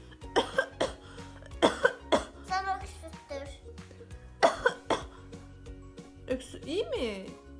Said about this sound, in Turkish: Öksür bakayım.